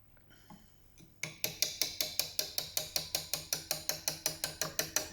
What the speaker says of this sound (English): Back to the chisel again.